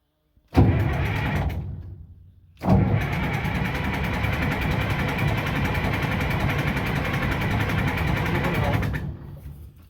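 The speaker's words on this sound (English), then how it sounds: "if you let it crank for 30, 40 seconds, I think it would" A Case 2470 tractor's diesel engine cranks loudly and steadily in two bursts, a short one followed by a long sustained crank that does not catch, with a brief pause between them.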